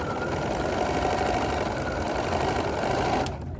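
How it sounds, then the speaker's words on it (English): A domestic sewing machine with a thread cutter stitches fabric for a small quilt with the presser foot lowered, a loud, close, continuous motor whir that runs steadily before tapering off at the end. "I'm going to go ahead, lower my presser foot, and stitch"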